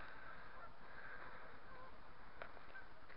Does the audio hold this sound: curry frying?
no